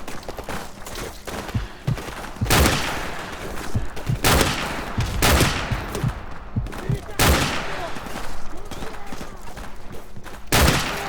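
Gunfire in the Modern Warfare Remastered video game: several loud, sharp shots at irregular intervals, each with a short echoing tail, over a busy background of scattered battle noise and movement.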